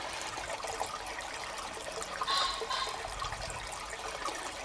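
Spring water trickling out from under a lump of stone in a cemetery, a soft steady flowing wash with faint splashy bursts, fairly quiet and close, no voices.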